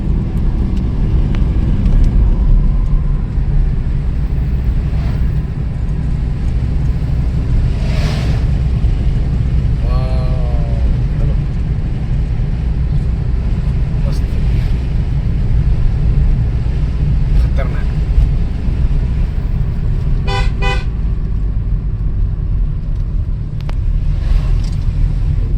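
A red MSRTC state bus, the Lalpari, approaches on a road near Kolhapur, its low engine rumble steady and loud under heavy wind buffeting, with a brief horn-like tonal burst partway through and no clear talk.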